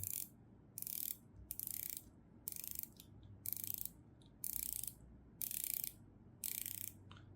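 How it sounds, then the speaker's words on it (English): The rotating bezel of a Pagani Design PD-1661 dive watch is turned in eight short bursts of crisp ratcheting clicks, close and quiet, with brief pauses between each turn. "The bezel action on Pagani design."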